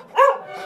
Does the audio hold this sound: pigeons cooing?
no